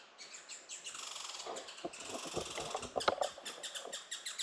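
A chipmunk high in a tree near a woodland trail in August, giving repeated sharp chirps mixed with bird-like calls, moderately distant over a faint breeze.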